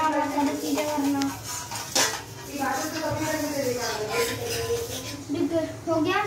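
Dishes, pots and cutlery being washed at home, with clinks and knocks of crockery scattered throughout under steady talk from an adult voice.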